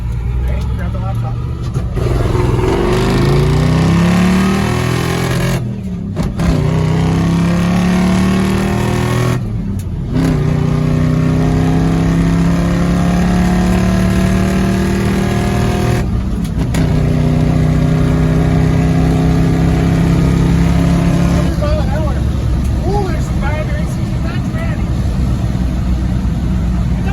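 A Hemi-swapped car makes a spirited full-throttle pull, its engine rising in pitch through repeated gear changes with brief breaks between shifts, loud and close from inside the cabin.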